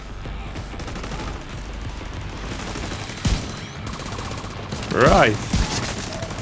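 Automatic gunfire from The Division 2 video game, a few sharp shots cutting through a constant background din, with a louder burst near the end and a brief spoken word in between.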